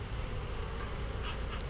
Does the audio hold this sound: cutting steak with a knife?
no